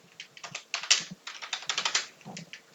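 A quick, close burst of keystrokes on a computer keyboard, with rapid irregular clicks packed into under three seconds and no voices.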